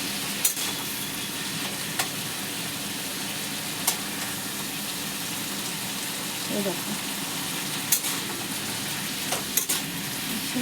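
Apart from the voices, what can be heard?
vegetables frying and being stirred in a pan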